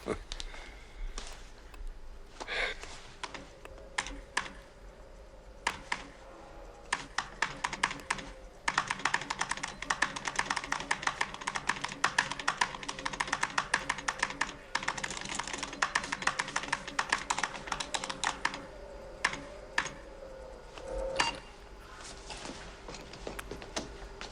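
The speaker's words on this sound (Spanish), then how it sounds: "Utilice el teclado." Typing on a computer keyboard, a steady run of quick light key clicks with brief pauses, close and fairly quiet, no talking.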